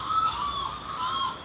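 Several goose-like birds honking in a steady, overlapping chorus, fairly loud and continuous through the whole stretch with no speech.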